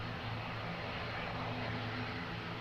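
An airplane taking off at Lisbon Airport makes a constant, heavy engine roar with a low rumbling drone, filling the whole moment at even loudness with no voices.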